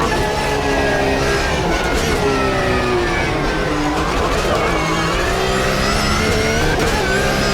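A race car engine in the Automobilista 2 driving game played in VR drones loudly and continuously, its pitch rising and falling with shifts as the car accelerates and brakes.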